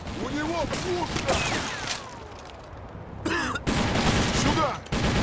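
Bursts of automatic gunfire in the first-person shooter TimeShift, loud rapid volleys broken by short pauses, with game voices shouting over the shooting.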